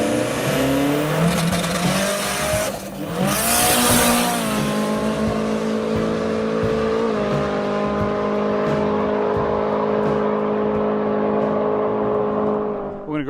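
A turbocharged FJ20ET-powered Datsun 1200 drag car with a C4 transbrake gearbox and Hilux diff, roaring loudly nearby as the engine revs climb, shift and hold through a sustained high-pitched acceleration run.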